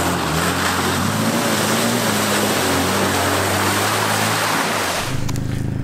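A Suzuki Vitara 1.6 with its original engine runs off-road in the Bieszczady mountains, a steady low engine drone under broadband wind and terrain noise, close and continuous until it cuts off near the end.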